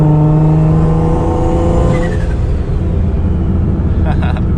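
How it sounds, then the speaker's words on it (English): A street-tuned turbocharged car runs with a turbo screen fitted in place of the intake filter. A loud, steady engine drone holds throughout, with a gliding rise in pitch, a faint whine or whistle, and brief chirps near the end. "So if you guys want to hear your turbo a little bit more, you have a huge crusty filter like I did, just run a turbo screen"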